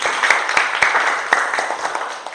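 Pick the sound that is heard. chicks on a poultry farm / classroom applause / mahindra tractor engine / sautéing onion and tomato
classroom applause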